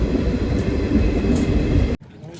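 The Saurashtra Express rolls slowly through a small station, a steady close rumble of wheels and carriage, then cuts off abruptly near the end.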